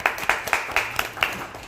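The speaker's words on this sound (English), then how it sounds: "Whenever somebody joins in the conversation, we clap it up for encouragement." A small indoor group claps together in a steady, evenly spaced rhythm of about seven sharp, close hand claps, with no other sound between them.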